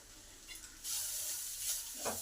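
Ground turmeric, cumin, chilli, coriander and garam masala fry in a pan, a faint quiet start rising into a steady close hiss of sizzling with light stirring scrapes, and no talking.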